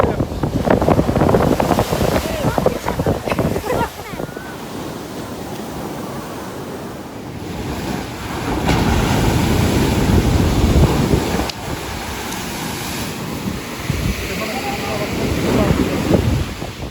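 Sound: sea waves crashing at Kaş

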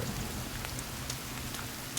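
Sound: rain in the video game The Forest

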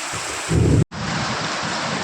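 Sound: heavy rain

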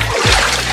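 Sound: pouring water between containers

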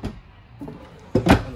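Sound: drawer opening and closing in a 2021 Starcraft Telluride camper

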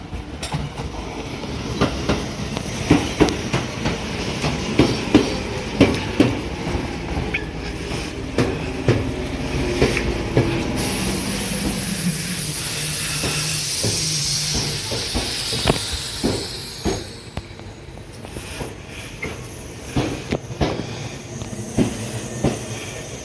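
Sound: express train in station

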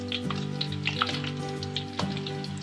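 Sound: sweet potato frying in oil

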